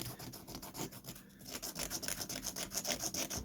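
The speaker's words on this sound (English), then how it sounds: "I've got a round file in my drawer here which I'll work my way around." Close, steady rasping of a round file worked back and forth on a small plastic part for a Microaces Nieuport 17 model, in quick regular strokes with a brief pause, and no talking.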